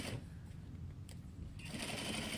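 A sewing machine stitches a zipper into a box cushion in short bursts, a fast mechanical whirring that pauses briefly before running again, close and clear with no speech.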